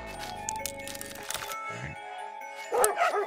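A dog barks in the puzzle video game Bokura, a few sharp yaps near the end over tonal in-game music and effects.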